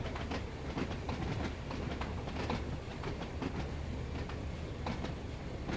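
Train running in the video game Train Sim World 2, a steady rolling rumble with repeated rhythmic clickety-clack of wheels over rail joints, close and continuous throughout with no voices.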